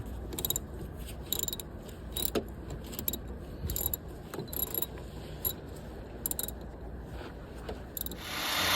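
Wrench ratcheting on the alternator bracket bolts of a 1992 Chevrolet Silverado, a run of quick metallic clicks and clanks at close range with no talk.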